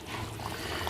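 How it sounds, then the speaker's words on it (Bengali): Water is poured into a pan of cooking chicken, giving a steady, continuous splashing trickle that stays close and even in level for just under a second, with no voices. "এবার জল দেওয়ার পালা। জল দিয়ে দিলাম"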